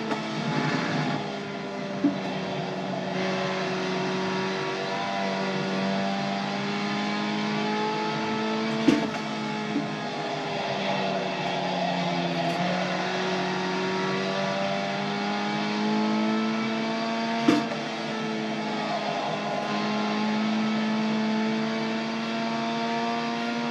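Formula race car engine lapping Lime Rock in the iRacing sim, a steady high-pitched whine rising and falling through gear shifts, continuous and close with no talk.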